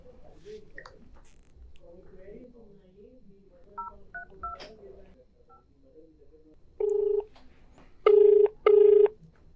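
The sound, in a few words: telephone number being dialed to call a guest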